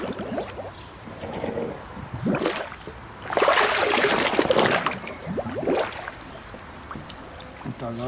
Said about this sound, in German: tauchen ihn ein paar Mal ein, dass er mit Wasser vollgesaugt wird.